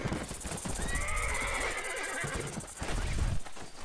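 A horse in the Red Dead Redemption video game whinnies in a long, wavering neigh that rises and falls, followed by a few clip-clopping hoof sounds at moderate volume.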